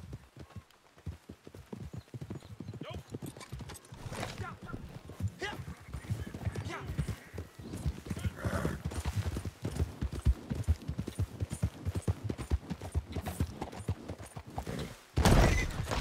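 Horse hooves clip-clop steadily in the video game Red Dead Online, a repeated rhythmic trot running under nearly continuous talk and game sounds, with a louder burst near the end.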